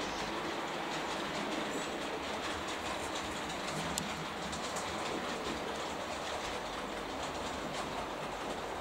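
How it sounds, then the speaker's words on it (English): Model railway Robinson J11 locomotive departing with a local goods train, a steady rolling rumble with continuous clickety-clack of small wheels on track, even and moderately close throughout, with no talking. "a Robinson J11 which is just departing with a local goods train"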